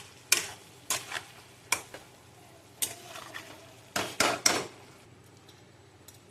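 Chilli paneer stirred in a pan with a spatula: sharp, irregular scraping knocks and clatters against the metal, spaced out over several seconds, close and fairly quiet.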